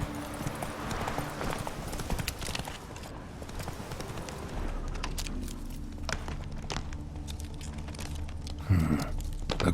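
Roach, Geralt's horse in the video game The Witcher 3, gallops with a fast, continuous drum of hooves over a low rumbling ambience, ending in a louder burst near the end.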